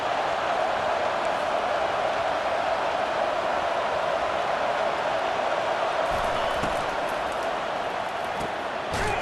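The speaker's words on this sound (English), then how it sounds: "Now the crowd responding in the red zone" A football stadium crowd roars steadily during a red-zone drive, a dense, loud, continuous wall of cheering with no breaks.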